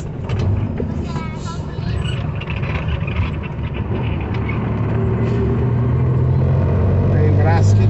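A car driving over speed bumps on a road in Maranhão, Brazil, with the engine droning steadily and gears being shifted, while people talk over the continuous road and engine noise.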